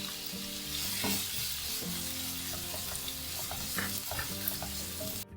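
Chopped onions sauté in hot oil in a pan, with a steady crackling sizzle punctuated by the scrape and clatter of stirring. A low background hum runs beneath, and no one speaks.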